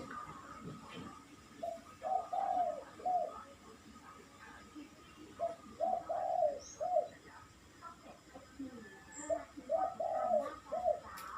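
A decoy red junglefowl bird's soft cooing repeats in short phrases of a few notes at moderate distance, over faint outdoor background noise.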